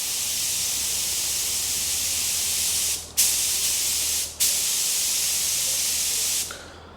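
A spray gun lays a second coat of 2K paint onto wheels, a loud steady hiss in three long passes broken by brief pauses, close and continuous with no talking.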